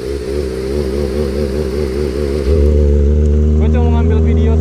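A Kawasaki ZX25R motorcycle engine, fitted with an aftermarket exhaust, runs loud and close, idling with a wavering tone before it revs up sharply and holds a higher, steadier roar.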